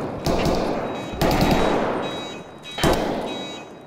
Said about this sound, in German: Der schießt aber auf irgendwas